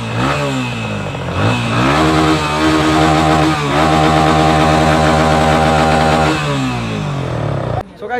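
A repaired motorcycle engine runs steadily and loudly up close, its rough idle rising and falling through a few throttle changes before cutting off near the end.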